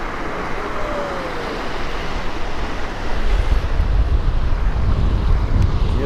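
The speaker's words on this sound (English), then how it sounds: "the wind really picked up" Strong wind roaring across the microphone at Pedernales Falls State Park in Texas, a continuous broadband rush that grows louder and gustier halfway through, with no voices.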